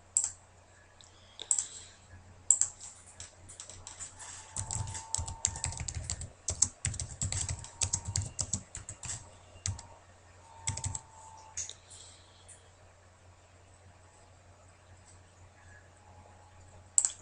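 Clattering keystrokes on a computer keyboard as a forex trade entry is typed out, with sparse taps early, then a dense burst of rapid typing, a few clicks, and scattered final keys, close and fairly quiet.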